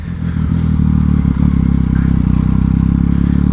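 A Yamaha MT-09 motorcycle engine pulls hard and loud up close during a wheelie, a throbbing rumble that builds within the first half second and then holds steady.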